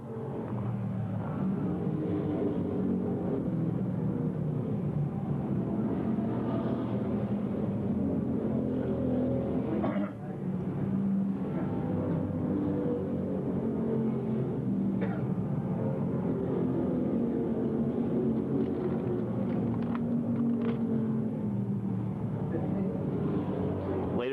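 Stock race cars roar around the oval at Langley Speedway during a 1994 race, a steady engine rumble that rises and falls as the pack passes, with a commentator talking over it throughout.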